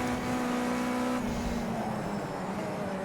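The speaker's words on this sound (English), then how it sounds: "These things sound like they've got a 4-cylinder engine by the sounds of things." Ginetta race car engine in the racing video game Project Cars 2, holding a steady, loud drone with a slight shift in pitch as it drives on, heard alone for about three seconds.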